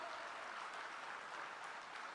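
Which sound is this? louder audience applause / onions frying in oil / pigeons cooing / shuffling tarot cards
louder audience applause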